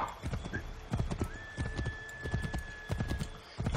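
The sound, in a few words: horse hooves galloping in Assassin's Creed 3 Remastered (video game)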